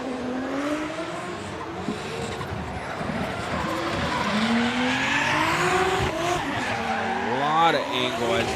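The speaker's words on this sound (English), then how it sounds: "Using all of his throttle for that inside Ryuma flip." A Toyota JZX100 Chaser drifting at a Formula Drift Japan round, its engine wailing at full throttle with tire squeal and shifting pitch sweeps, under a commentator's continuous talk.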